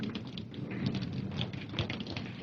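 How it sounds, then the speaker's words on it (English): Steady rain falling during a storm, a dense close patter with scattered louder drops over a constant wash, no voices. "It's starting to rain."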